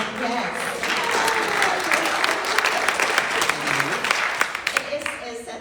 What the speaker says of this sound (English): We clapped right when you came in.